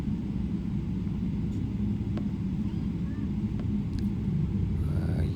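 An Emirates airliner taxis at Rome Fiumicino airport, its engines giving a steady, heavy low rumble throughout, with faint clicks and shifts over the drone.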